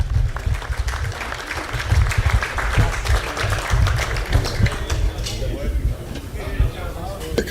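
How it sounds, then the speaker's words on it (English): An audience gives a round of applause for racing driver Craig Lowndes at a panel chat, with steady, dense clapping that holds throughout and thins slightly toward the end, along with some crowd noise. "I just want everyone to give him a round of applause just for being here"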